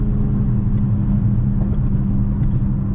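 A Tesla Model S Plaid passing nearby, a loud steady low rumble and road roar with a faint whir, constant throughout with no voices.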